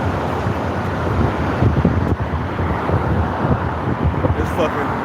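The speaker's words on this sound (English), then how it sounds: "It's fucking breezy over here." Strong outdoor wind buffets the microphone with a continuous loud rumble and gusty roar, with faint surf-like wash underneath.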